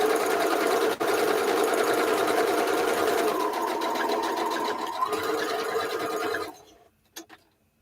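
A sewing machine runs in a long steady loud whir while quilting, moving the machine over the quilt rather than the quilt, then stops abruptly with a couple of faint clicks after.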